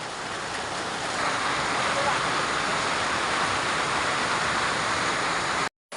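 Heavy rain pouring down in the Philippines while floodwater overflows, a dense, steady roar of rushing water and downpour, loud and continuous until a sudden brief cut near the end.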